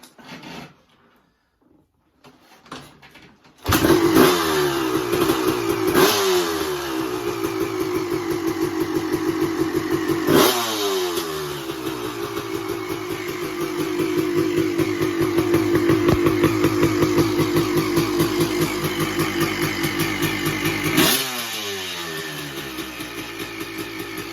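A 1993 Honda CR250R two-stroke motocross motorcycle engine kicks into life and idles steadily, with a few sharp revs blipping up and dropping back, close and fairly loud.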